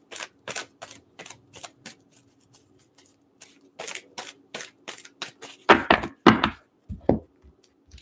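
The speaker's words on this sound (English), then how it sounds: "Give it a good shuffle." A deck of angel oracle cards shuffled by hand, a quick series of crisp card riffles and taps in irregular bursts, growing louder with heavier slapping shuffles toward the end, no talking over it.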